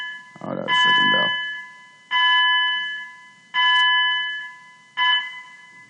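A school bell rings loudly in a classroom: a steady metallic tone that sounds in four long bursts with short gaps between them. A voice is heard briefly at the start.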